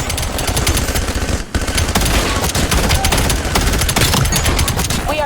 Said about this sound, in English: Sentry turret operating.